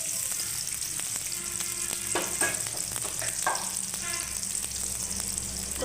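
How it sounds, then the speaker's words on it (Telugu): Onions fry in a pan with a steady close sizzle, broken by a few clinks and scrapes of stirring midway. "నెక్స్ట్ కొన్ని ఆనియన్స్ వేస్తున్నాను. ఫస్ట్ ఇవి బాగా ఫ్రై అయ్యేలా చూసుకుంటున్నా"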